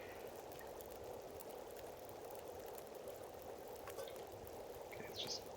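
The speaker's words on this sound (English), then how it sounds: "You can hear all the teas bubbling away here." Several pots of tea bubble on a stove in The Long Dark, a steady low simmering hiss that runs evenly throughout with no talk.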